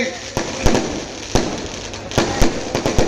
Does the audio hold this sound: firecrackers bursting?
yes